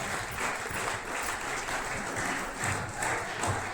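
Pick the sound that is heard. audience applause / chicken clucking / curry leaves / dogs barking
audience applause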